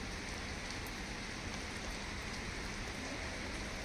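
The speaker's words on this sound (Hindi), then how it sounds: "आज झमाझम बारिश हो रही है" Heavy monsoon rain pours steadily in the early morning, a dense, constant hiss of drops with no letup and no voices.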